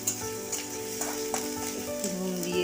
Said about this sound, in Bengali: দিয়ে গ্যাসটা একটু বাড়িয়ে দিলাম। এবারে নাড়তে চাই